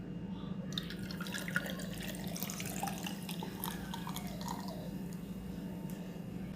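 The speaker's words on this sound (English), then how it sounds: "I'm gonna go ahead and pour lime juice that I mixed up" Homemade lime juice is poured into a cup of ice, giving a quiet, continuous trickle and splash against a faint background hum.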